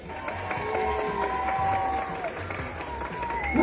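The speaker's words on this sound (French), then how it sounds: "On applaudit très très fort" Young children in a school performance setting clap for classmates, a fairly loud crowd applause with some voices mixed in, building toward the end.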